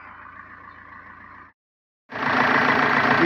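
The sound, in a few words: idling 1.9 litre diesel car engine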